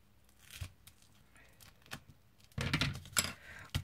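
Scissors snip through adhesive tape while a birthday card is being made, a few quiet crisp cuts and rustles building to a louder burst of snipping near the end.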